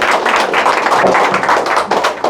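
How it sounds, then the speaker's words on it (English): An audience gives itself a round of applause, with dense, sustained clapping from many hands filling the room at close range throughout. "Give yourself a hand of applause."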